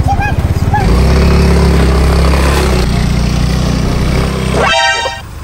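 A motorcycle engine revs loud and close, holding a steady throaty drone for several seconds before cutting off, with a horn-like tone at the start.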